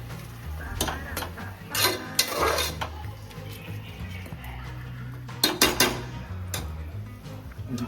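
Chicken biryani ingredients being fried and mixed in a pan, with a metal spoon scraping and clanking in irregular bursts over a low background hum.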